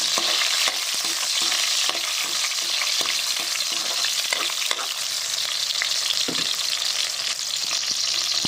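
Onions sizzle and crackle steadily in an oily pan beside garlic as a spoon stirs them, with frequent scraping clicks over a loud, continuous frying hiss, part of cooking Filipino ginisang mongo with pork bones.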